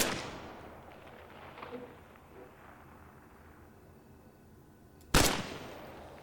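Rifle shots in the video game Arma Reforger: one sharp, loud crack near the end, preceded by fainter distant pops and a low rumbling decay, with no talk.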